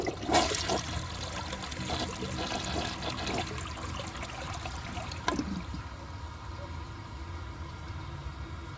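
A Porcelamex toilet from 1999 flushing a washcloth, a rushing gush of water near the start that settles into a steady draining trickle with a brief knock midway, then quieter refill.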